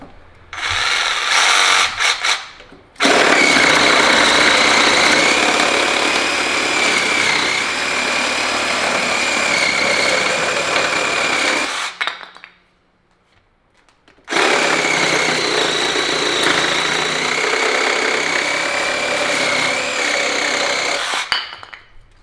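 A budget power tool from a kit runs with its trigger pulled at variable speed, a loud steady motor whine in two long bursts separated by brief pauses, slight vibration rattle, close up with no talking.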